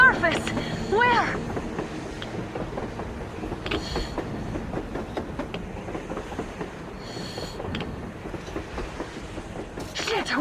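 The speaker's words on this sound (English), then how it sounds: "A train! A damn train on the surface!" A train rolls past on the surface in the video game Metro Exodus, with rumbling wheels, rhythmic clatter and whooshes of wind, while voices talk over it.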